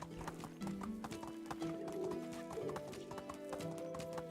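Horse hooves clip-clop steadily while riding in the Medieval Dynasty video game, with a brief whinny; an even, close rhythm of hoof falls runs throughout with no talk over it.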